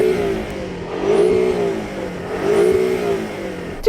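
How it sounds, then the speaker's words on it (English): A Porsche Cayman's turbocharged four-cylinder engine revs up twice, each rise swelling to a strained whine and settling back to idle, heard close and fairly loud. "Go on, rev up the Porsche."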